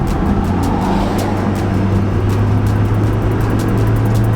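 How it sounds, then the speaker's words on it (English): A hybrid car's engine, with a CVT transmission, revs up smoothly under acceleration, a steady low hum with road noise and wind rushing past an open window. "I'm going to give it a little gas and let y'all hear the engine"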